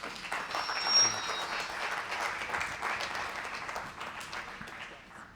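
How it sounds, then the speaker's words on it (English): An evening audience at a conservation talk claps for a speaker, a steady moderate patter of many hands that gradually thins toward the end. "can we have one last round of applause for Alex Sienkiewicz"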